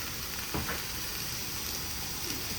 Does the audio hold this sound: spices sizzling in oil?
yes